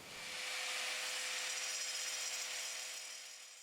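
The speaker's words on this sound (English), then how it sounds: "taking a diamond wheel grinder and cutting into your brand new countertops" A high, harsh whine of a diamond wheel grinder cutting into a concrete countertop, loud and continuous, swelling in and easing off slightly at the end.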